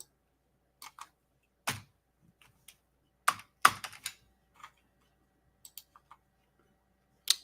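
Irregular keystrokes on a computer keyboard in an office, sparse clicks with pauses between them, fairly close and clear with no talking.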